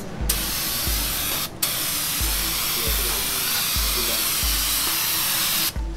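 Cleaner sprayed onto a Suzuki Satria FU motorcycle's speedometer during carbon cleaning, a loud continuous close-up hiss lasting nearly the whole time, broken by two brief pauses.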